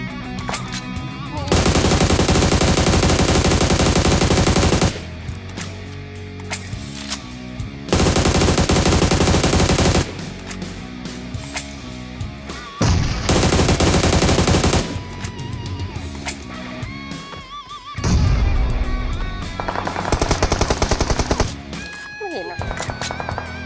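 Gunfire in PUBG Mobile's Dinoground mode: repeated loud bursts of automatic fire in several sustained volleys, broken by short pauses and other game noises.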